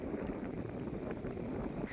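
Strong wind blows outdoors across open farmland, a steady broadband roar buffeting the microphone for the whole stretch, with no one talking.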